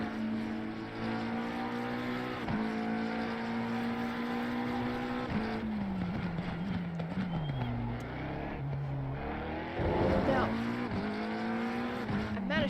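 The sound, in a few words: race car engines in a sim racing video game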